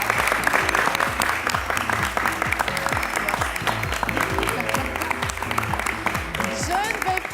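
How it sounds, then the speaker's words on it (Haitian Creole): An audience applauds warmly at a World Women's Day event, dense sustained clapping from a large crowd, loud and steady throughout with faint voices underneath. "à toutes les jeunes femmes de Millénial que je vous demande d'applaudir très chaudement"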